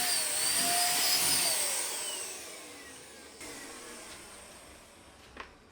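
A paint sprayer hisses loudly while coating wood with water-based polyurethane, its high airy whine gradually fading and falling in pitch, ending with a brief soft click.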